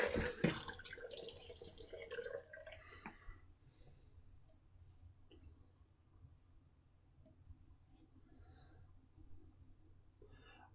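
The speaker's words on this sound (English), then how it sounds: "Let me get me some cold water this time." Cold water runs from a bathroom tap during a shave, a fairly strong rushing stream at first that drops to a faint, steady trickle with occasional small clicks.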